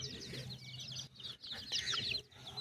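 Free-range desi chickens clucking and chirping close by on a farm, giving a busy cluster of short calls that dips briefly and then rises again, with no talk over it.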